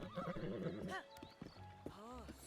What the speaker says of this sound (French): Oh mon cheval mouillé là.